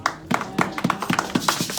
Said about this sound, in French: Nous applaudissons la parole de Dieu.